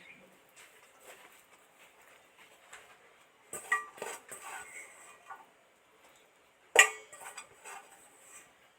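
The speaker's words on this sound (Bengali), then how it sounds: "সব শেষে ওই সেদ্ধ করা ফুলটা এর মধ্যে দিয়ে দিচ্ছি" Boiled drumstick flowers go into pakora batter in a bowl, with scattered soft clinks and two sharper clatters of a utensil against the dish, close and fairly quiet.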